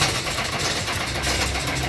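Faulty aftermarket starter motor on an Iveco 35S14 van cranking the engine, a loud steady mechanical droning and rattling with no break, close up and heard alone.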